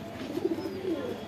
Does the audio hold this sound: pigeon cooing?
yes